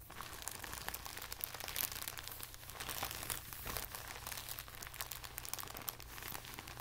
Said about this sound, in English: regular old plastic bag.